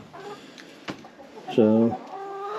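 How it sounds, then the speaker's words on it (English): Chickens on an off-grid homestead cluck and call in a few short bursts, one louder call standing out near the end, with a brief spoken word in between. "All the chickens are doing good."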